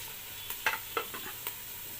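Grated carrot and onion stirred together in a frying pan, a few quick scraping strokes over a soft, faint sizzle, with no talk.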